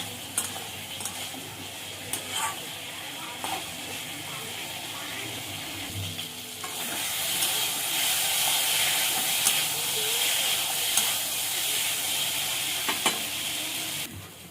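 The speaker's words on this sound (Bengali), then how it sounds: "আলুর সঙ্গে মশলাটা ভালো করে মিশিয়ে নেব। ভালো করে কষিয়ে নেব।" Potatoes fry with cumin paste, green and dry chili paste and turmeric for a cauliflower curry, a soft sizzle with occasional stirring clicks that swells into a louder, steady hissing fry midway.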